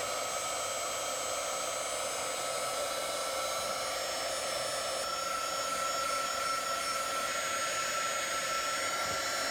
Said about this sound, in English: we're going to attempt to use this Heat Gun HG 300D double insulated 350 watts